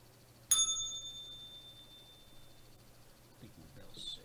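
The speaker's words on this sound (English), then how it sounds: "I think my bell's sick." A single bright bell strike rings out at the close of a live broadcast about E-mini futures and cryptocurrency trading, its clear tone decaying slowly over a couple of seconds against a quiet background.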